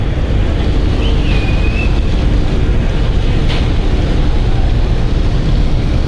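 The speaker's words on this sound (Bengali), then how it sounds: "এটা কিন্তু বরিশাল ঘাটে সর্বপ্রথম আজকেই ঘাট করবে ঢাকা থেকে যাত্রী নিয়ে আসা এম খান 7 লঞ্চটি" The M Khan 7 passenger river launch arriving at Barishal ghat, with a loud steady engine rumble and rushing water and wind noise, a faint whistle-like tone briefly audible.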